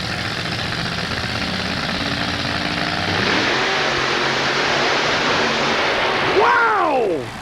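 A mud racer truck at a 1990 mud racing event in San Diego roars steadily as it races through mud, engine revving loud and close, with a rising then falling whine near the end.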